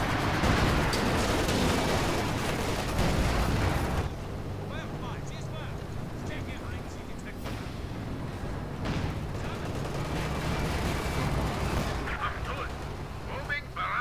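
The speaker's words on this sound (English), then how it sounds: "Moving barrage commencing" Artillery moving barrage with gunfire and explosions in Company of Heroes 2, dense loud rumbling blasts at first, then ongoing distant booms and crackling shots, with players talking over it.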